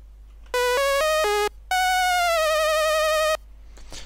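A Sylenth1 synthesizer plays a bright lead and bass together, loud and alone: four quick stepped notes, a short gap, then one long sustained note that bends downward in pitch and wavers before cutting off.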